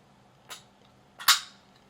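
A folding knife with a carbon fiber handle and bearing pivot snaps open twice in close succession, a light click followed by a sharper, louder hollow flick, close up with no talking.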